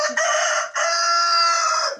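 A rooster, the oldest of a farmyard flock, crows loudly and close by, one long strident call after a short lead-in note and brief break, with no talking.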